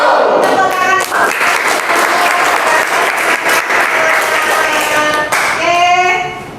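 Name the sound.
classroom applause, students clapping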